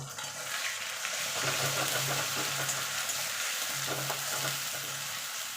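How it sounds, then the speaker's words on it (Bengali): Ginger, garlic, dried chili and tomato paste sizzle in fried onions in a pan, a steady close frying crackle with stirring strokes. "পেঁয়াজটা ভাজা হয়ে গেছে দিয়ে দেবো মশলাটা যেখানে আদা রসুন শুকনো লঙ্কা টমেটো পেস্ট করে রেখেছিলাম"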